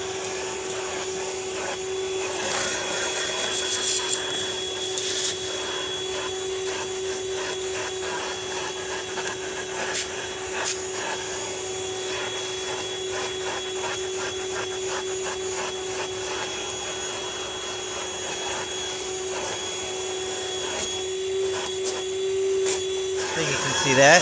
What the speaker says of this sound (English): Vacuum up acorns, whatever.